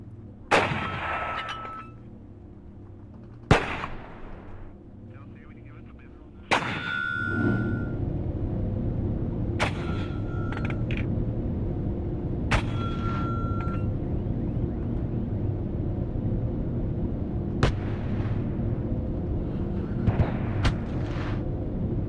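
Artillery firing smoke rounds in the video game WARNO, heard as a handful of sharp, metallic booming shots spaced several seconds apart over a steady low rumble of battlefield ambience.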